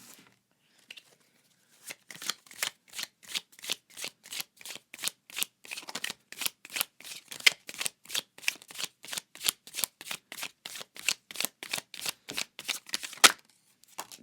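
Tarot cards being shuffled by hand in a long, steady run of crisp riffling snaps, close and clear with no talking.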